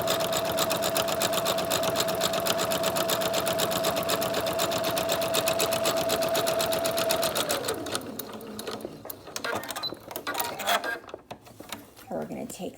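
A home sewing machine runs a steady line of top stitching across a 3-D face mask, its rapid needle clatter loud and close, then falling into looser, uneven mechanical noise in the final seconds.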